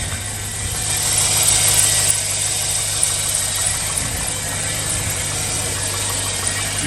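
A cold Chevy Suburban LS V8 idles steadily with a low, even hum, quiet and close, with no voices.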